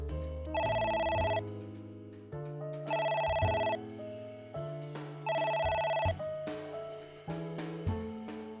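In the video game AI: The Somnium Files, a phone's bell rings over and over, with loud electronic bursts separated by short gaps and no talk.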